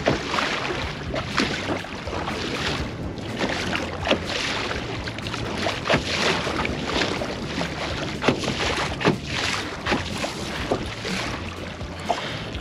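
A small boat being paddled through wind and waves on the Nemunas river, with continuous wind rush and water sloshing, scattered paddle splashes and knocks at irregular intervals, fairly close, no voices.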